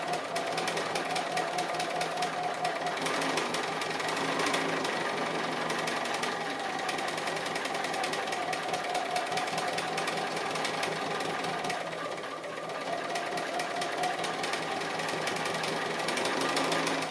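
A sewing machine stitching an appliqué, a fast steady mechanical whirr that runs continuously and close, with one brief slowdown partway through and no talking.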